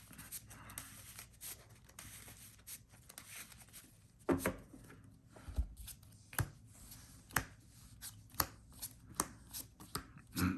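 Playing cards are shuffled in quick riffling bursts, with sharp flicks and snaps spaced irregularly over a quiet background, close to the microphone.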